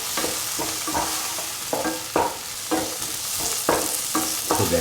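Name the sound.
sautéing and crushing tomatoes in a pan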